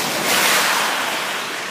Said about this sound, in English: here comes some cars, and I'm just going to wait and let them pass